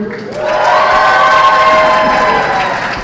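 A large crowd cheers and shouts loudly, a sustained roar of whoops and yells that swells and then slowly fades.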